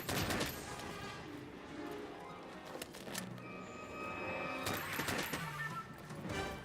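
Heavy gun firing in Monster Hunter World on Xbox One X, booming shots at the start and again near the end over a constant din of game noise, moderately loud, with no talk.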